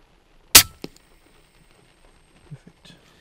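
An airgun fires a 26 grain javelin slug at a hare at night, a single sharp close crack followed by a short knock, then faint scattered ticks and rustles in near silence.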